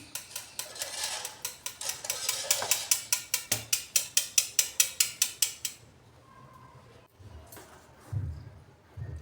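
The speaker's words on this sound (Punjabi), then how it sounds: "ਇਹਦੇ ਵਿੱਚ ਹੀ ਛਾਣ ਲਾਂਗੇ ਅਸੀਂ ਆਟੇ ਨੂੰ" Wheat flour sifted through a sieve by hand in a home kitchen, heard as a rapid, steady series of rhythmic metallic tapping and rattling strokes, about two per second, that stops partway, followed by quieter handling sounds.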